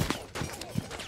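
Gunfire in Rainbow Six Siege ranked play: a quick burst of four sharp shots spaced evenly over about a second, fairly close and loud, with no talk over it.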